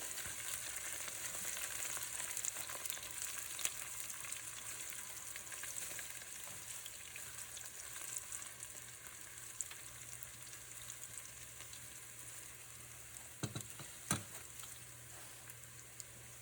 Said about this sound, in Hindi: प्याज अच्छी तरह से सुर्ख हो रही है और चिकन भी तैयार है। हम इसको मिक्स करेंगे।